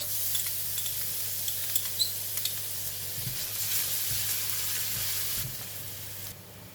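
Garlic frying in about two tablespoons of hot cooking oil in a pan for a sweet potato leaf stir-fry, giving a steady, close hiss of sizzling with occasional light stirring clicks.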